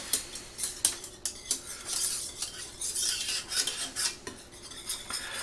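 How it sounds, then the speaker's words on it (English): Five short grinds of black pepper from a pepper mill over a pot of Provençal garlic soup, a series of close, crisp rasping bursts in a loose rhythm, with light scraping and clinking of kitchen utensils around them. "I'll give it 1, 2, 3, 4, 5 little grinds of black pepper."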